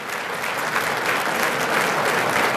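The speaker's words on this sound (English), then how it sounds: "Absolutely, applaud that." Loud, dense applause from an audience at a city's State of the City address, a continuous wash of clapping filling the whole short stretch with no voices over it.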